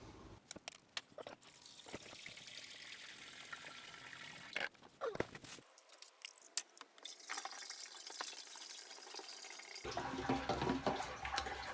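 Liquid draining out of a motorcycle gas tank being de-rusted, a faint running trickle and splash with scattered drips and clunks, quiet and close.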